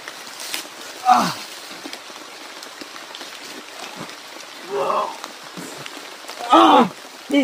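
Steady rain patters across a surface throughout, with a few louder bursts of splashing or voices rising over the wash.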